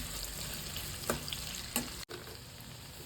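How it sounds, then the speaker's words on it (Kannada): Onions frying in a pan with cloves and cardamom make a steady close sizzle, with a couple of brief stirring taps and a short dropout, no talking. "ಈಗ ಈರುಳ್ಳಿ ಹಾಕ್ಕೊಳ್ಳೋಣ. ಸ್ವಲ್ಪ ಚೆನ್ನಾಗಿ ಫ್ರೈ ಮಾಡ್ಕೊಳ್ಳಿ."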